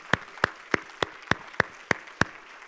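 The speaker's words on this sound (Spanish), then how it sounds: "Dale un aplauso, bro." Eight evenly spaced sharp claps, close and distinct at a steady rhythm, like one or a few people clapping rather than a crowd.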